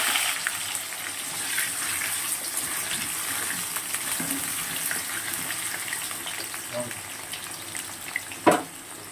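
Cinnamon and cloves crackle in hot oil in a wok, tempered before goat meat is cooked, making a soft steady sizzle with faint clinks and a sharp clatter near the end.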